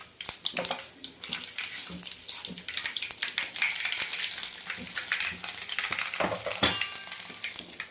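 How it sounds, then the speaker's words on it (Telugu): Mustard seeds and spices frying in a pan for Telugu bendakaya gojju (okra curry), giving a steady close crackle and sizzle with scattered sharp pops and brief scraping, with no voices. "ఆవాలు సిమ్లో పెట్టుకొని ఇవన్నీ కొంచెం మనం ఫ్రై చేసుకుందాం"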